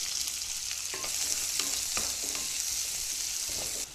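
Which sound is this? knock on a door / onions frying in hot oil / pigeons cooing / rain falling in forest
onions frying in hot oil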